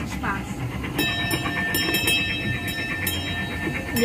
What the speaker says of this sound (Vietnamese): Giờ đang đi xe lửa nhỏ